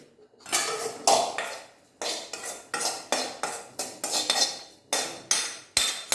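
Lemon pickle being mixed with a spoon in a bowl, with a steady run of repeated scraping and clinking strokes, close and fairly loud, and no talking.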